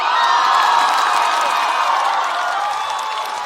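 A live studio audience at a televised stand-up comedy competition erupts in sustained cheering, whoops and applause, loud and dense throughout before tapering slightly at the end.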